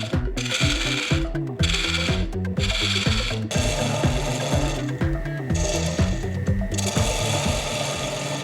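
Wood turning on a lathe with the tailstock engaged, holding a small piece centered while a wobble is worked out: a steady close motor drone with rhythmic scraping and rasping of the tool against the spinning wood, interrupted by brief pauses.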